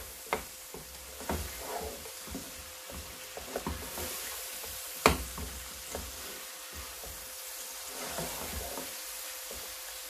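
Ingredients for yakhni rice fry and sizzle quietly in a pan while a spoon stirs and mixes them, with soft scraping strokes and one sharper clack against the pan over a faint, steady hiss.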